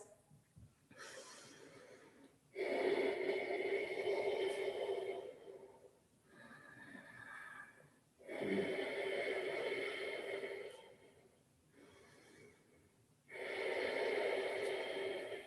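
A person in a vinyasa yoga flow breathes slowly and deeply, alternating long audible inhales and breathy exhales in about three cycles, close and clear, with short quiet gaps between breaths and no talk.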